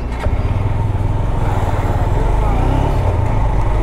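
A Honda Hornet 2.0 motorcycle cruising on a highway, its engine a loud, steady low drone with a constant rumble and rushing road noise, close and continuous.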